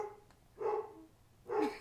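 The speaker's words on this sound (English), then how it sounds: "The dog is barking because her parents are getting home now." A pet dog barks as people arrive home: two short, fairly loud barks about a second apart, with quiet room tone between them and no talking.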